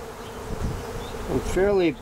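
A honey bee swarm buzzes inside its hive one week after collection. A low hum runs throughout, and a louder bee sweeps close past near the end.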